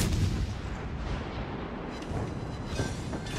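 Battleship main guns fire in World of Warships Legends, a sustained roar of heavy booming artillery salvos with rumbling low-end blasts rolling over one another at close range.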